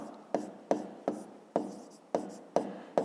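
Pen writing numbers in a notebook, close up: seven quick scratchy strokes in an even rhythm, each a sharp onset fading out, no talk.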